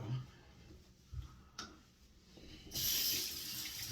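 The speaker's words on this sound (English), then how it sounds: "I'm gonna add a tad more water right here." Water runs from a tap during a wet shave, being added to dilute shave soap; a quiet room hum and small clicks give way to a steady, bright hiss of flowing water in the last second.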